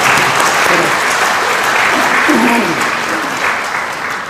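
A crowd claps loudly and steadily for several seconds, the applause slowly fading toward the end, with a voice briefly heard beneath it.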